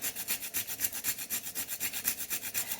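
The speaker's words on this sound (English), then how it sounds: "now grate the nutmeg. We have a small grater which can be used for grating the nutmeg" A small hand grater scrapes nutmeg for winter spice ladoos in a steady back-and-forth rhythm, about a dozen quick rasping strokes, close and fairly quiet with no talking.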